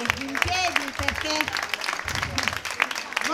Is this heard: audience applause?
yes